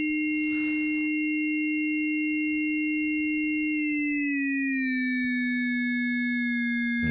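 A two-operator FM synth voice from a Plaits module holds a steady, pure tone with a few bright harmonics, then bends downward in pitch midway as its frequency setting is lowered, with a faint brief noise burst near the start.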